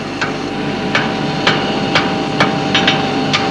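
Hammer blows on white-hot metal ends being forge welded together, sharp ringing strikes landing about every half second in a steady rhythm, loud and close over a low hum.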